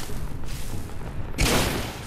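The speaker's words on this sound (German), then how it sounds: "Mann, sind die Schüsse geil." Gunfire in the video game Fallout 4's Nuka World add-on: loud, booming shots with a heavy blast about two-thirds through, with no talking.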